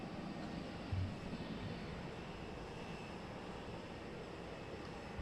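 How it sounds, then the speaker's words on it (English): An airliner taxiing on one engine at moderate distance, a steady, continuous low broadband roar holding level throughout with no voices. "So they taxi on one engine"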